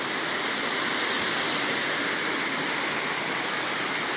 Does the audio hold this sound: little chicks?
no